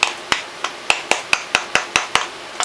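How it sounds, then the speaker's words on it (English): Sharp metallic hammer taps on a screwdriver wedged into the seam of a Honda Foreman 500 rear differential case, about ten evenly spaced strikes, close and loud with ringing decay, no talking. "Got my hammer, see if I can tap it in there."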